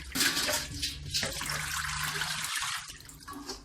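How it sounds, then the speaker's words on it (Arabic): Food being washed by hand under running tap water in a sink, a close continuous rush of water with sloshing and splashing as the pieces are rubbed and turned, with no voices. "غادي نغسلهم اكثر من مره. كتشوفوا كيكون الماء كحل."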